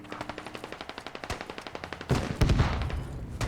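Automatic gunfire in the military shooter game Squad: a rapid, even stream of close shots for about two seconds, then heavier, denser bursts that boom and fade out.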